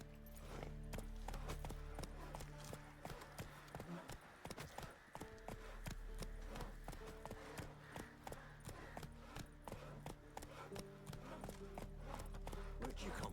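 Hoofbeats of Geralt's horse Roach in The Witcher 3: steady, rhythmic clip-clop of hooves trotting on ground, close and continuous, with occasional speech over it.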